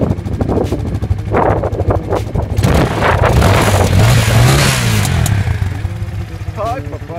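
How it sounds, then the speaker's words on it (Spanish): A Vento Crossover 250 motorcycle engine starts up and revs, rough and loud throughout, rising in pitch as the throttle opens and then settling, with someone talking over it. "Vamos a encender la moto. ¡Oh, qué suculento! Les digo que me gusta cómo suena."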